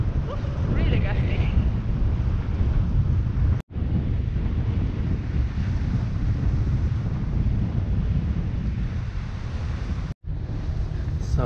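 Strong gusty wind, around 20 knots, buffeting the microphone aboard a Hallberg-Rassy 54 sailing yacht under main and genoa: a loud, continuous low roar with two brief dropouts.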